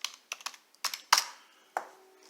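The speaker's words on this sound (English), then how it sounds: "So type to search, and I'm typing in monitors." Fingers typing on a computer keyboard in a Windows 10 search box, with a handful of irregular close keystrokes, some single and some in quick pairs, with short gaps in between.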